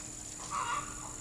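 A full-grown rooster beside a chicken coop tractor gives one short, faint call over steady outdoor background noise.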